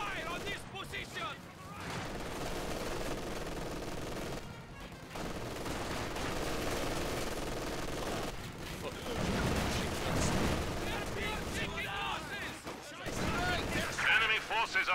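Gunfire and explosions rattle through a Company of Heroes 2 battle, with machine-gun bursts and heavy blasts that come and go across the scene while soldiers' voices call out over the fighting.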